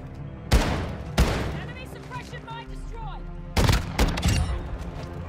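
Gunfire in Modern Warfare 2: sharp, loud bursts of shots clustered at the start and again later, with quieter game ambience between them.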